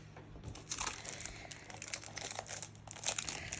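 Plastic wrapping on a Lawn Fawn paper pad crinkles and rustles in close, irregular bursts as the package is opened, with no talking over it.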